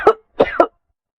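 A man coughs from the lungs, heard close and alone: one sharp cough, a short pause, then two quick coughs in a row.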